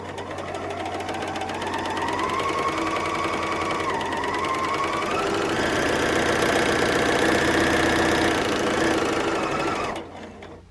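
A Bernina L460 overlocker runs steadily for about ten seconds, a loud, close mechanical whir with a rising pitch midway before stopping abruptly.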